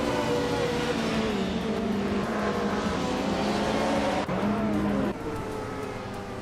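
Classic 1983 Lancia LCR1 race cars roar at the start of a vintage race at Hockenheimring, a loud, sustained engine drone with shifting pitch that drops abruptly twice as gears change.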